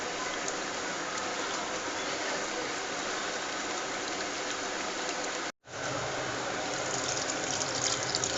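Tamarind water squeezed from soaked tamarind being poured into a pan of fish for tamarind fish curry, a steady close splashing, trickling pour that runs continuously, breaks off briefly, then resumes.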